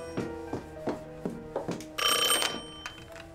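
A telephone ringing repeatedly in a bank office scene from a film about Elvis Presley, bright electronic rings pulsing at a steady pace, then a sustained louder trill before the rings resume.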